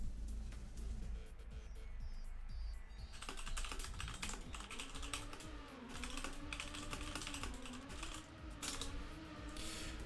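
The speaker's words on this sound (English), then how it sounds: "Sorry for typing in the round," Rapid typing on a computer keyboard, with a dense patter of light key clicks running continuously under a steady background hum.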